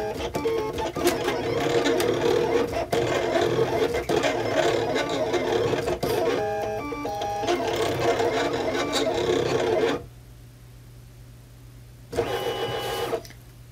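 A Silhouette Cameo 4 cutting machine runs a WRMK foil quill, giving a steady mechanical whir with clicking carriage moves. It is loud and close, then drops almost silent near the end before the motor briefly resumes.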